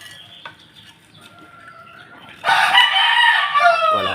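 Backyard chickens make soft clucks and low calls, then a rooster crows loudly and nearby for over a second, with the clucking carrying on underneath.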